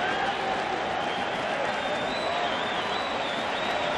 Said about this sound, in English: Crowd gets into it with a 1-2 count.